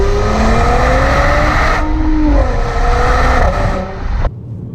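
A Mercedes-AMG GLC 43 accelerates hard in Sport Plus mode, its engine roaring loudly as the pitch climbs through gear changes before the sound cuts off abruptly near the end.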